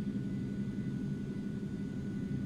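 Aerobask Eclipse 550NG jet on its takeoff roll in a flight simulator, a steady low engine roar with a faint constant whine above, even and sustained throughout.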